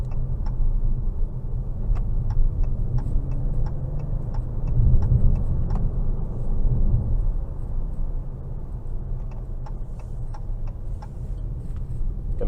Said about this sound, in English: I got higher up in the RPMs than I was expecting